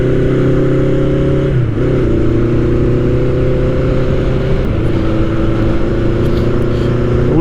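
A roughly 40-year-old Honda CB750 Nighthawk with an air-cooled 750 engine runs steadily during a ride. It makes a loud, continuous drone that dips briefly in pitch near the two-second mark and shifts again later, with no talking.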